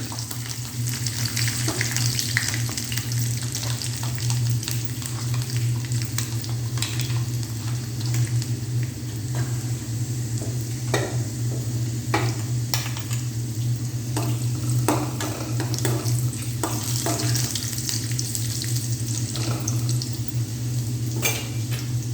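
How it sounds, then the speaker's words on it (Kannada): Garlic and dry red chillies frying in a pan, a loud continuous sizzle with scattered stirring clicks and scrapes, close up and without speech. "ಇವಾಗ ಇದು ಬೆಳ್ಳುಳ್ಳಿ ಹಾಕ್ತಾಯಿದ್ದೀನಿ ಮತ್ತು ಒಣ ಮೆಣಸಿಕಾಯಿ"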